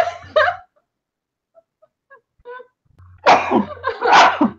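A single sharp sneeze, with voices speaking just before and after it, and a short quiet gap in between.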